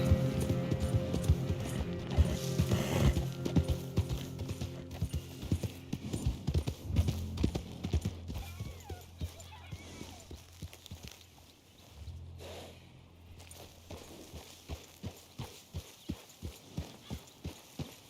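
Horse hooves in Red Dead Redemption 2, heavy clopping that quickens into an even galloping rhythm toward the end, close and distinct, with a whinny and faint speech early on.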